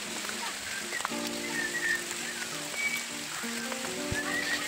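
Steady rain pours during a monsoon trek to Korigad Fort, a dense, even hiss of drops on surfaces with faint water trickling, close and continuous, a few soft tonal chirps and a low voice briefly in the background.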